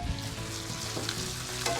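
Thinly sliced ribeye steak sizzles steadily in a hot pan as it warms through, a close, continuous frying hiss with small crackles and no voices.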